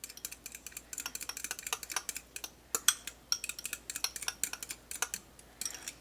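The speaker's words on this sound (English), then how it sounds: "Just mix it until it's nice and incorporated." Banana muffin batter being mixed in a bowl, a rapid series of close clicking and scraping strokes from the utensil against the bowl in an uneven rhythm, with no talking.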